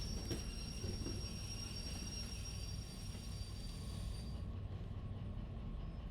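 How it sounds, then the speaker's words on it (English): A heavy iron ore train in Derail Valley rumbles steadily with metallic squealing from the braking wheels, a continuous low roar with high whining tones that drop away near the end. "Probably activate the brakes a bit too late."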